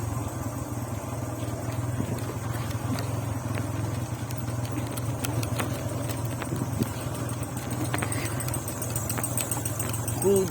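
A motorcycle engine runs with a steady low rumble, a constant drone with faint clicks and knocks layered on top, heard close for about ten seconds.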